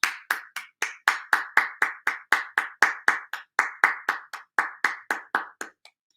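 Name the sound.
clapping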